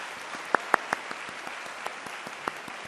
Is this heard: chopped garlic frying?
no